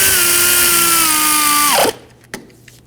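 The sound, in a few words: power tool snugging up hub bolts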